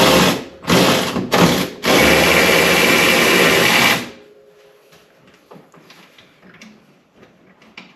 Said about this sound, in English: we'll just pull these bolts out real quick, those nuts, and drop this coilover out